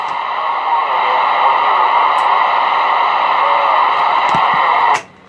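A 148 CB radio transmitting through its stock microphone gives a loud, steady band-limited hiss and hum with a faint voice buried in it, cutting off with a click near the end.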